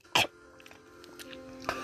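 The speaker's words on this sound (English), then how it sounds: "He's coughing up blood." A single sharp cough near the mic, then quiet low hum and a faint second throat sound near the end.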